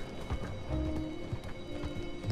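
Horse hooves clip-clop at a steady trotting rhythm in Red Dead Redemption 2, close and moderately loud over a low background hum.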